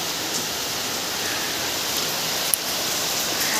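Rain falls outside onto a street in a steady, even hiss, moderately loud and unbroken, with a single faint tick partway through and no voices.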